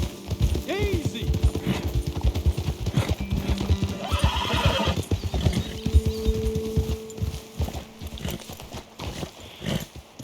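Horses in Red Dead Redemption 2 clip-clop along at a steady trot with a neigh near the start, close up, while people talk over the hoofbeats.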